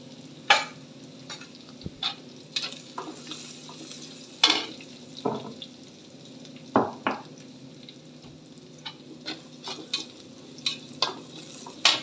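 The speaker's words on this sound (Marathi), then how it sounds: "आता मिरची पण छानपैकी परतलेली आहे." Green chilies fry in hot tempering oil with a steady close sizzle, punctuated by repeated sharp scrapes and taps of a spoon stirring in the pan.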